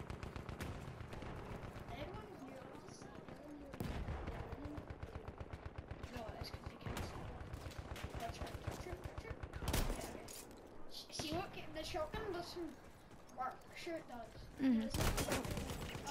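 A gun fires in Battlefield 1 in rapid repeated bursts, with loud staccato shots, heavy booms and distant battle noise, and players talking over the shooting.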